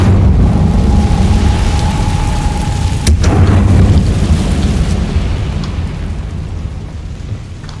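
The Incendio fire spell from the video game Hogwarts Legacy erupts as a loud roaring burst of flame, a deep rumbling whoosh with a sharp crack midway before slowly fading.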